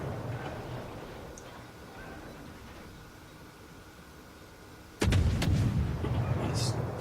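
Warship guns firing in World of Warships from a Khabarovsk destroyer: a sudden loud boom midway breaks a low rumbling game soundscape, followed by continued heavy rumble.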